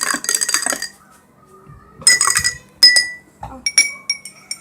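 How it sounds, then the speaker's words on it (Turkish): A spoon clinks against a cup while coloured water is stirred for making slime with hair gel, giving bright, ringing taps in several short bursts, close by. "Ben kendi suyumu karıştıracağım."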